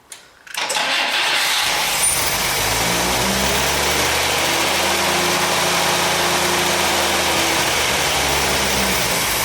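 An abandoned 1962 AMC Rambler engine cranks briefly and fires, then settles into a loud, steady idle with an even low rumble that holds close and continuous to the end.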